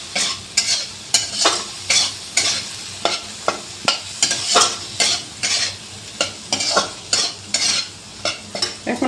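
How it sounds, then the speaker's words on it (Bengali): Ground cumin and chilli paste with turmeric and salt frying in oil for a Bengali fish curry, stirred briskly in a pan, giving a loud rhythmic series of scraping strokes over a continuous sizzle. "আমি একটু নাড়বো চালবো"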